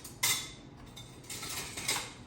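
A metal spatula is picked up from among kitchen utensils, with a couple of close, bright metallic clinks and rattles over a short moment.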